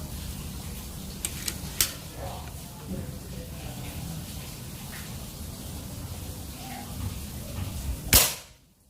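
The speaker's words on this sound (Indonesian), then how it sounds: "Tembakan keempat." A folding-stock PCP air rifle with a 30 cm seamless barrel fires one sharp, loud crack near the end, preceded by a few small clicks, over a steady outdoor background.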